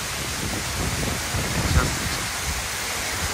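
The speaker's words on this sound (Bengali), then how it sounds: "এটা হলো ছাঙ্গে ওয়াটারফলস।" Changey Waterfalls in West Sikkim, a dense, steady roar of falling water with no break, heard up close and loud.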